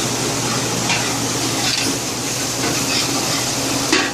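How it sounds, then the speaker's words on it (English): Tomato sautéing in a pan for biryani gives a steady, close sizzle that runs throughout, with a few soft scrapes and clinks of a utensil against the pan. "once the tomato is added, saute it for some more time"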